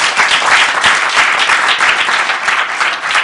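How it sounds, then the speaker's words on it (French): A studio audience at a French television comedy show applauds a comedian, a dense, loud, continuous wash of clapping lasting a few seconds with no speech over it. "Al, sous les applaudissements du public"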